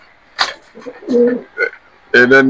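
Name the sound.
pigeons cooing at a pigeon farm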